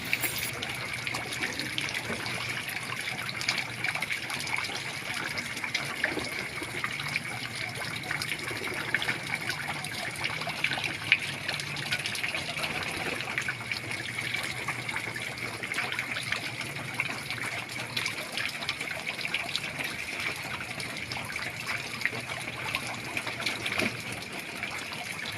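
Water trickles and patters steadily from a shower set up for pigeons to bathe in, continuous and fairly close with a faint pump-like hum beneath and no talking.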